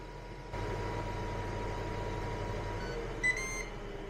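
A countertop air fryer hums steadily with its fan, then a short, bright beep sounds near the end to mark the finished cooking cycle.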